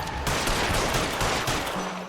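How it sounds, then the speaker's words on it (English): Rapid gunfire in the L.A. Noire video game, aimed at a car tire, a dense continuous burst of shots lasting about two seconds with no talking. "I tried so hard to shoot the tire."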